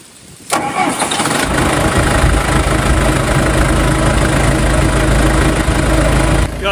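A John Deere backhoe's engine cranks and catches after a short quiet moment, then settles into a loud, steady, close diesel idle that runs unbroken to the end.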